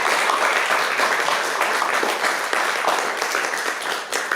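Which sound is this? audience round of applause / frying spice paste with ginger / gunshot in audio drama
audience round of applause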